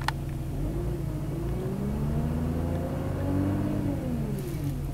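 A 3.0 TDI diesel engine with a P0299 boost pressure fault revs up under throttle, a low rumbling drone that rises and falls once over a few seconds, heard close and steady.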